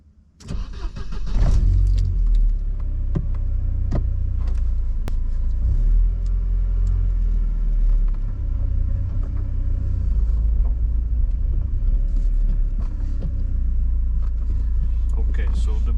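A Mercedes W201 with a six-speed manual starts with a rumble, then drives with a low, steady engine drone and several brief clicks and knocks of gear changes, all heard close from inside the car.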